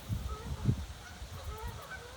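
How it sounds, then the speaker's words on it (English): A few low, throaty honks from geese at a distance, irregular and brief, over quiet outdoor background noise. "Can you hear the geese?"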